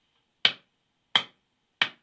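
Three sharp, crisp hand claps ring out close by, evenly spaced about two-thirds of a second apart in a quiet room, made to test Bluetooth speaker latency.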